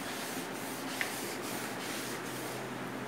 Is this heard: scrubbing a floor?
yes